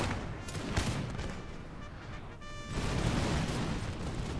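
Musket volleys and artillery fire in a Napoleon: Total War battle, a dense, continuous roar of crackling shots and booms, loud and unbroken, swelling after a brief dip.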